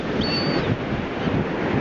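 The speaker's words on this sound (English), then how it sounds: "the wind's going like 100 miles an hour" Strong wind gusts buffet the microphone on Cape May beach, a steady loud roar with surf mixed in, continuous through the whole moment with no talk.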